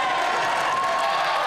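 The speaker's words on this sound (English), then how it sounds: "because you can hear all the cheering" Loud crowd cheering and applause fill a parliament chamber as the budget passes by a narrow vote, a dense continuous roar of many voices and clapping with no breaks.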